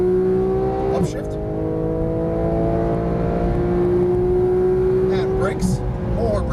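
A Porsche GT3 991 engine on a track at high revs, its steady whine dropping in pitch at an upshift and then climbing again, loud and continuous under a voice giving driving instructions.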